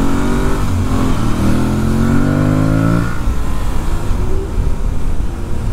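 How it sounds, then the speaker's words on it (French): A light, well-balanced motorcycle's engine revs up in smooth rising pulls for about three seconds, then drops back to a rougher idling rumble, close and loud with no talking. "le moteur fait un son qui est vraiment pas désagréable, très sympa."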